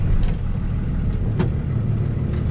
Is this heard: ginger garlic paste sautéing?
no